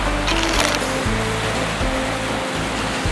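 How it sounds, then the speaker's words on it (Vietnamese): Ocean waves breaking on a beach in winter, a constant loud wash of surf with low rumbling swells, steady and close. "Ô, sóng đánh to quá kìa chị Khánh Linh ơi."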